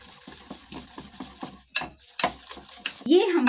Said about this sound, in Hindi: इस बाउल में मैं ये ऑयल डालूंगी और साथ ही मैं ये खांड डाल दूंगी इसके अंदर और इसे मैं अच्छे से बीट कर लूंगी